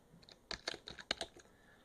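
A few quick keystrokes on a computer keyboard, a short irregular burst of light clicks heard close and alone against a quiet background.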